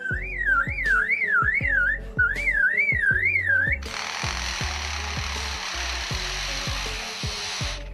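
A lyrebird's warbling whistles give way to a buzzing, chainsaw-like mechanical whine imitated by the bird, with sharp rhythmic clicks throughout.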